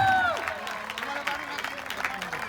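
A crowd claps at the prize ceremony of a cricket league final, a burst of scattered applause rising after a brief voice at the start.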